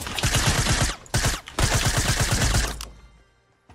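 Automatic gunfire in Fortnite rattles out in fast, evenly spaced rounds, two loud sustained bursts separated by a brief pause, then a final volley that cuts off into quiet.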